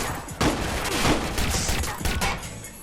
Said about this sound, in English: Fuck, man, he's shooting at us.